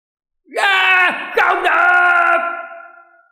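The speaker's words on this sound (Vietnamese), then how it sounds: "Những người kia hét lớn" Several voices yell loudly together in a long, drawn-out cry with a brief break in the middle, then trail off; no other sound accompanies them.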